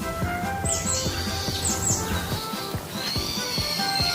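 A cartoon bird chirps in an animated Hindi comedy, thin high tweets and short squawks repeating over a steady tonal background, with no talking.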